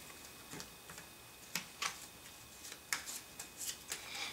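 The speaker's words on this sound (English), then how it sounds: "we need to shuffle these once again, but we also need to shuffle the advanced cards" Playing cards for the CoderMindz board game are shuffled by hand, a series of crisp, close riffling and tapping bursts at irregular intervals in a quiet room.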